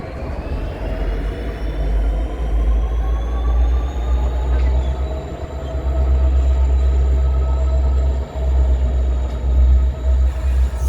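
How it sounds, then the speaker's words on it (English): Santa Fe (ATSF) Yellowbonnet freight train rolling past, a loud continuous low rumble of wheels on rails with faint high squealing tones running throughout. "That right there is one of the trains I have been after my entire life."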